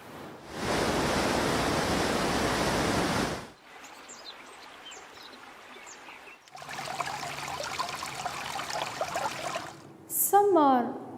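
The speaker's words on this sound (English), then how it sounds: "This is the roaring sound of a river." Roaring river water, a broad loud rushing wash that fills the opening seconds alone, followed by quieter softer flowing passages.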